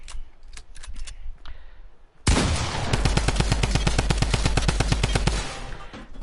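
A rapid-fire weapon in the Fortnite video game unloads one sustained, loud burst of evenly spaced shots lasting about three seconds, preceded by a few sparse, quieter clicks.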